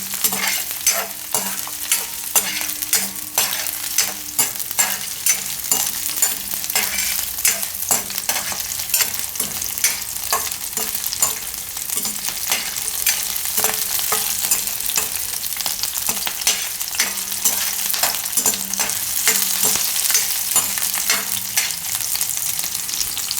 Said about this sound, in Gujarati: થોડીક વાર તેલમાં શેકવા દે.